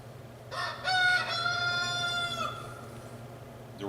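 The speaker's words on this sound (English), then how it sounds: "The rooster is not getting any ham." A rooster crows once, a clear, fairly near cock-a-doodle-doo lasting about two seconds over a low background hum, with no talk.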